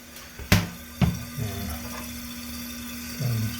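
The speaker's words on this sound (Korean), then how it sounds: "플래시 관으로 물이 많이 들어가고 있습니다." Toilet tank refilling after a fill valve replacement, with water running steadily into the tank and flush pipe under a faint hum, broken by a few sharp knocks and clunks near the start and a low gurgle near the end.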